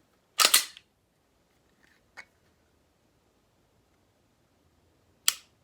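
A Glock pistol trigger snaps with a sharp click near the start, a tiny reset click follows, and another crisp click comes near the end, with near silence in between.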